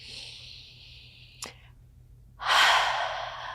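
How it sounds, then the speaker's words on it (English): A woman inhales deeply through the nose, pauses after a small click, then lets out one long, loud breath, close to the mic with nothing else heard. "So take a deep breath with me."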